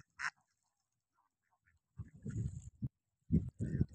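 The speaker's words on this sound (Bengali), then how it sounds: "এই যে হাঁসগুলো দেখেন" Domestic ducks on Halti beel wetland in Naldanga, Natore, give a short burst of quacking, then several closer clusters of rough calls, with silent gaps between them and no speech.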